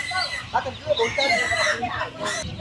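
Chickens cluck and squawk in a busy, crowded chorus at a market stall packed with poultry, a rooster crowing among them, close and continuous.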